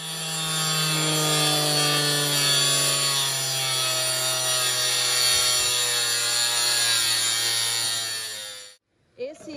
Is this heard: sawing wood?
yes